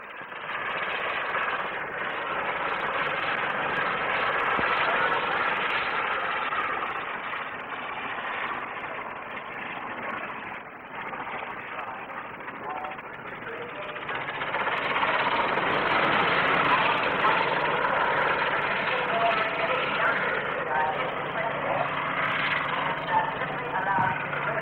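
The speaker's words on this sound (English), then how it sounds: "The rotor tip power makes a rate of climb for this aircraft which is quite staggering." Ultralight rotor-tip powered helicopter flying at the 1958 Farnborough air display, a steady loud engine roar that swells and fades as it climbs and passes, with a commentator talking over it.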